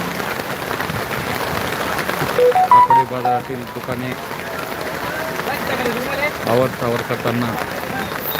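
A steady unseasonal heavy rain hiss fills the background at a weekly market in Pahur while someone talks over it nearly the whole time.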